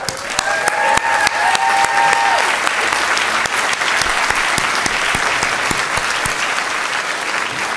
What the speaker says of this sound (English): Please join me in applauding their phenomenal efforts and achievements.